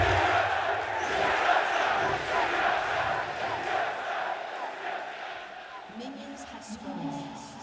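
A large arena crowd at the League of Legends LCS Spring 2019 finals between Team Liquid and TSM roars and cheers loudly and steadily, fading slightly toward the end, while a commentator talks.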